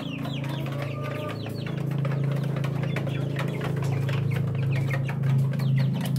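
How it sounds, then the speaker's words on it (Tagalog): Rhode Island chicks about six weeks old cluck and peep steadily at close range, with a dense layer of chirps over a continuous low hum and no talking. "Sisiw na Rhode Island."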